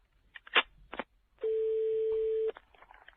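Telephone dialing to place a call: a few short beeps and clicks, then one long steady tone lasting about a second, followed by faint scattered tones, close and clear with no voices.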